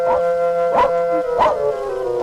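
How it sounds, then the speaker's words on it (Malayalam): A dog barks at night in a Malayalam film scene, giving about four spaced, yelping barks over a steady tonal background hum. "പട്ടി കിടന്ന് ബഹളം വെക്കണ കണ്ട"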